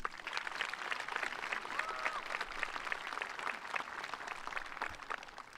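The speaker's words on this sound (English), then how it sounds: "Let's give the students headed out into our local workforce a round of applause." An audience at a graduation ceremony applauds the class of graduates, a steady dense wash of many hands clapping in a large hall that holds at full strength throughout, with no speech over it.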